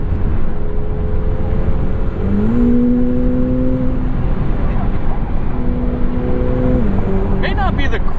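A 2024 McLaren 750S supercar engine on the road: a loud, steady engine drone with a couple of stepped pitch rises as it accelerates.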